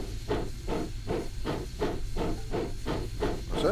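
Steam locomotive of the Southern Pacific Cab Forward type in the video game Train Simulator 2014, giving rhythmic chuffing hisses in an even repeating beat, loud and close, with no talk.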